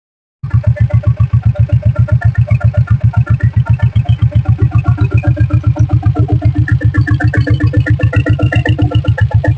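A diesel Bullet motorcycle with self start and a 5 HP engine fires up and settles into a loud, rapid, even thumping idle, each beat distinct and close, with no voices.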